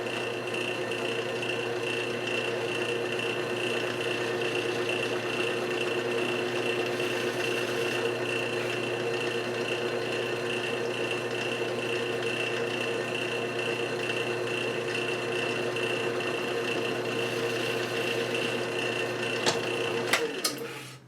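Wood lathe turning a segmented scalloped pen blank between centers, a steady continuous motor whine and hum running throughout, ending with a few brief clicks as it winds down.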